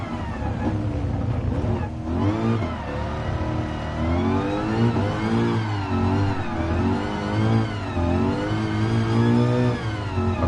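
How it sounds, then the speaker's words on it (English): A 700-horsepower Ford Mustang GT on sports hard tyres revs hard in a wet-weather race in Gran Turismo Sport, its engine note climbing and falling in steady sweeps, loud and continuous with no talk. "A Mustang GT with 700 horsepower."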